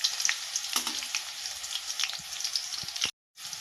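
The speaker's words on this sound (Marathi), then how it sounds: "आता तूप गरम झालेले आहे, त्याच्यामध्ये मी मिरची टाकून घेते." Green chillies crackle in hot ghee in a pan, a bright, steady sizzle with small pops, fairly close, ending abruptly in a brief silence.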